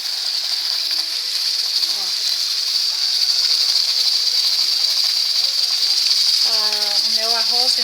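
Pressure cooker hissing steadily while brown rice cooks, a loud constant high steam hiss throughout, with faint voices and small kitchen sounds underneath near the end.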